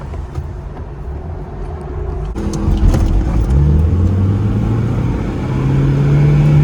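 A manual-transmission Acura TSX drives along, its mid-pitched engine droning steadily and rising in pitch as the car accelerates, with the rumble growing louder toward the end.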